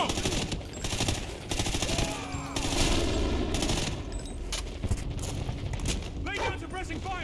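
Heavy suppressing gunfire in a realistic military shooter game set in a ruined Los Angeles, rapid automatic bursts and scattered shots under shouted voices and battle noise.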